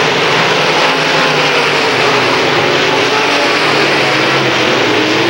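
Late model stock cars race wheel to wheel down a short track's back straightaway in a 1993 heat, a loud, dense, unbroken engine roar with no clear gaps.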